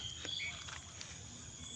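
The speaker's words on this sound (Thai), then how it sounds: "มีเขียดร้องด้วยนะครับ" Small frogs calling in rice fields on a morning walk: faint, thin chirping croaks drift in briefly from a distance over a steady hiss of insects and open-air ambience.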